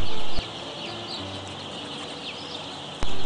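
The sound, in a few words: broiler chicks chirping as taken out of box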